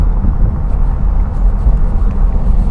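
Steady low tire and road roar from a Volvo S60 1.6 D sedan driving with a window open, a dense continuous rumble with faint wind hiss above it and no talk.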